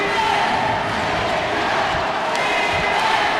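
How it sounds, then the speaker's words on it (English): A big Filipino crowd at an ABL basketball game cheers the San Miguel Beermen in a steady, dense roar with shouts rising out of it, loud and continuous throughout. "we got a big Filipino crowd here cheering the San Miguel Beermen"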